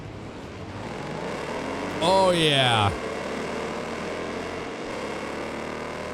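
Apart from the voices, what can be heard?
car engine in Wreckfest 2 video game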